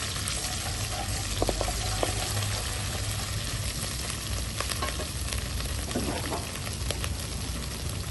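Ginger-garlic paste and green chili paste sizzle and crackle steadily as they are stirred in hot oil, with scattered scraping clicks from the spoon against the pan, close and continuous.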